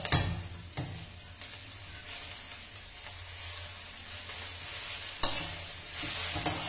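Chowmein noodles are stirred and fried with vegetables in a pan for a hakka noodles dish, producing a continuous close sizzle with occasional spatula scrapes and two sharper knocks late on.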